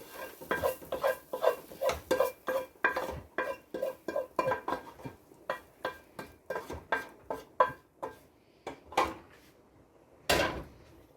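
Chopped softened leeks and mushrooms get scraped and stirred into a soup pot, giving a steady run of close spoon scrapes and clatters against the pot, with a louder knock near the end.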